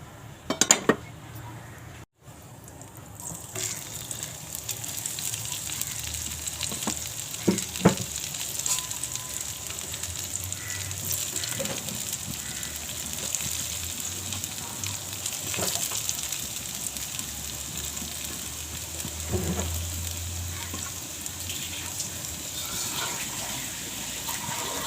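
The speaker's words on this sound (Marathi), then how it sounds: "सर्व वड्या घालून घेतल्या आहेत तव्यावर" Coriander vadi fry in two spoons of oil on a tawa, giving a steady soft sizzle with occasional clinks of a utensil against the pan, at moderate level.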